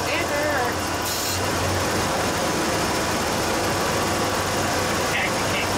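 Ford Bullnose truck engine idling rough with a leaking brake booster, a loud continuous low rumble heard close up while people talk over it.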